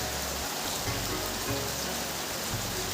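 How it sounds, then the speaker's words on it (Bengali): Steady rain falls outdoors, a continuous even hiss of drops that holds at the same level from start to end, with a low rumble underneath and no voices. "কি সুন্দর বৃষ্টি।"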